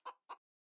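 Two short, close clucks from chickens in the farming video game Farming Simulator 19, followed by silence.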